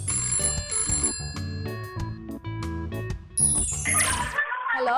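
A telephone rings with bright, repeated electronic tones in the second half, following a stretch of music with clinking notes; no voices.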